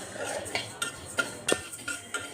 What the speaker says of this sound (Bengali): এখন মুগ ডালটা ভেজে নিচ্ছি